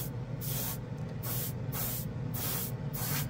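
A Testors Aztek airbrush sprays in short repeated bursts of broadband hiss, close and steady, with brief pauses between each burst and no talking.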